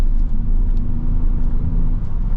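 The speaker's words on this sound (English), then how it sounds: "Braking hard, second gear, first gear, go into the hairpin." A Kia Stinger GT sedan is driven hard into a hairpin, its engine and road noise forming a steady, loud rumble from inside the cabin with no speech.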